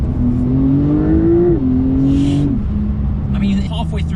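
A Porsche 911 Turbo S accelerating hard in second gear on a wet highland road, engine note rising then easing as a gear change cuts in, loud and close, with a voice speaking over it.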